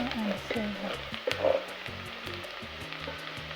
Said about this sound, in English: Spices need to be cooked in oil so they release all full aroma and flavor